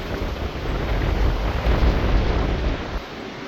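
Steady roar of wind buffeting the microphone, loud and continuous, with low rumbling gusts that ease slightly near the end.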